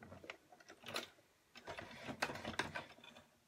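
A sewing machine set to its longest stitch length sews through a paper card, quiet mechanical ratcheting in short uneven bursts with a pause partway through.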